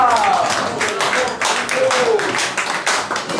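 Applause at a 50th birthday party, a steady mass of hand claps from a crowd, close and loud, with voices and cheers mixed in throughout.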